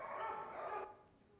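A dog barks once in a shelter kennel, a short, fairly close woof that fades quickly into quiet room tone.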